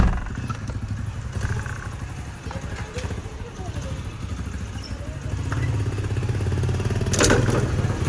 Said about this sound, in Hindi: मैं और महताब बड़े अरसे बाद लंबे रूट पे जाने लगे हैं बाइक पर।